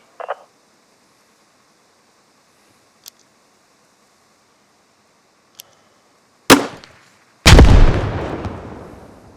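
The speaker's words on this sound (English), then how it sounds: "Grenadiers in your squad carry a grenade launcher slung under their primary weapon. These fire 40mm grenades" A 40mm underslung grenade launcher fires in the video game Squad: a few faint clicks, then two sharp, loud blasts about a second apart, the second trailing off in a long rumbling decay. No one speaks.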